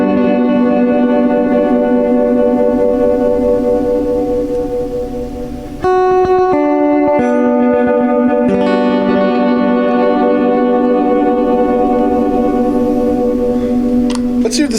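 An electric guitar seventh chord rings through an Old Blood Noise Endeavors Dweller pedal, heavy with shimmering reverb, echo and gentle detune; it sustains, is re-struck partway with a few plucked notes, then swells on alone.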